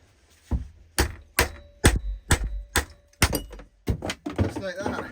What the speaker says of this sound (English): Hit it with a hammer and it should pop off.